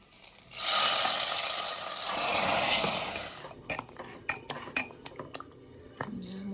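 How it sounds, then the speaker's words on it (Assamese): Panch phoron spices hit hot ghee with a loud, steady sizzle for about three seconds, then die down into a few sharp clinks and scrapes of a metal utensil against the pan. "এয়া ঘি দিয়া ঘিত পাঁচফোৰণ দিছোঁ তাৰকা মাৰিবলৈ"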